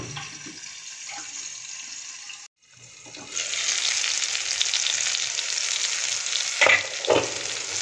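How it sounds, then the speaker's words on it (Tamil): An egg and tomato omelette fries in a pan with a continuous close sizzle that cuts out briefly, then returns louder and steady, with a few faint clinks and no talk. "ஒரு சைடு வெந்துருச்சு, இப்போ நம்ம இன்னொரு சைடு திருப்பி போட்டு வேக வச்சு எடுத்துடலாம்"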